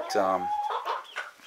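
A homestead hen, among a flock including larger white hens, gives a single short, nasal cluck up close, followed at once by someone talking.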